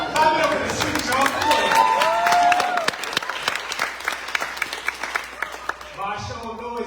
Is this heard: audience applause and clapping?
yes